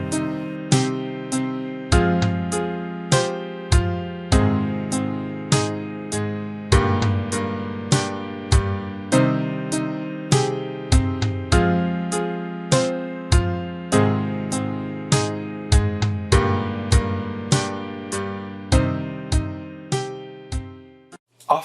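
Automatically generated MIDI music file played back by a robot composer: a steady run of sharp synthetic note attacks with sustained harmonic chords, dense and regular, evenly loud throughout with no voices.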